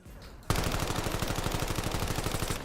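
Rapid automatic gunfire from a weapon in the video game Call of Duty Black Ops 7 erupts after a brief quiet moment, then continues as a loud, steady, evenly spaced burst of shots until the end.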